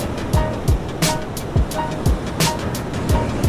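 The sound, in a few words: whitewater of a breaking ocean wave at a surf contest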